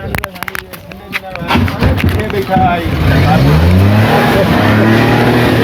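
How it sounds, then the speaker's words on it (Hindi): Car engine starting after a push-start, with sputtering bursts at first that settle into a loud, steady running idle, close by with people talking over it. "अभी गाड़ी जो है ना वो स्टार्ट हो गई है"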